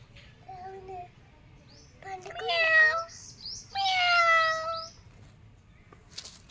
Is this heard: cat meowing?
yes